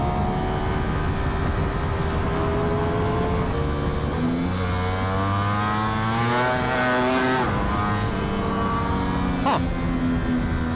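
A Ducati Panigale V4R motorcycle is ridden hard, its engine droning loudly and then climbing in pitch through the revs as it accelerates, with a brief shift near the end and rushing wind noise throughout.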